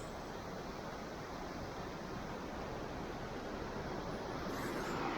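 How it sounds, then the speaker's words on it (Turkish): Steady rushing water from a waterfall flowing in a valley in Hakkari, a broad continuous roar that stays even and close throughout, with no voices. "Şelale akıyor."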